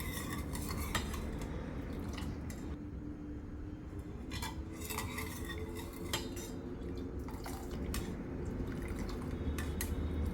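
Finger millet puttu flour being mixed with warm coconut milk in a bowl, heard as faint scraping, clinking utensil strikes and wet stirring sounds, irregular and close, with no talking.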